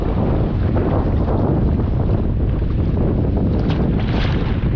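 Rough, constant rushing of wind and choppy waves on Taal Lake, loud and unbroken, with buffeting gusts over the microphone.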